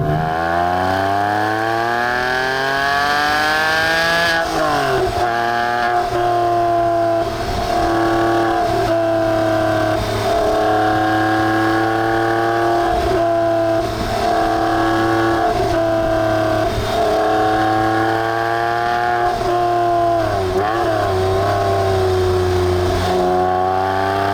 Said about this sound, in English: This car has the Porsche Sports exhaust on